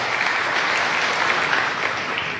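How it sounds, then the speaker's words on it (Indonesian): A church congregation claps in a steady, even round of applause, a dense wash of many hands held at constant loudness before tapering slightly at the end. "Kalau mau tepuk tangan silakan"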